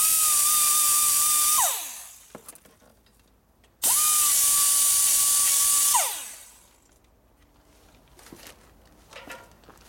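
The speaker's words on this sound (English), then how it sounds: "Make sure you deburr it." A power tool deburrs a freshly cut metal edge during a 2008 Buell Blast trials bike conversion, running in two loud sustained bursts of about two seconds each with a steady whine, then spinning down, followed by faint clatter.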